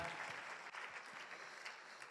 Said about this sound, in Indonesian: Wah, tepuk tangan buat TNC One Vision.